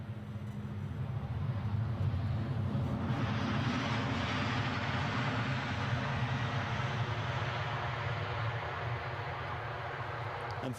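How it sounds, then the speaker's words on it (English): An EasyJet Airbus A320ceo arriving at Edinburgh Airport, a loud broad jet engine roar that holds steady and swells slightly before easing, heard from outdoors with no talk. "We've just seen one EasyJet go Stansted way, and we have another EasyJet inbound. Both 320s, but this is the CO rather than the Neo."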